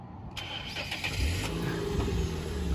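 A car engine cranks and catches after a moment of quiet, then revs and pulls away with a rising, rumbling drone up close.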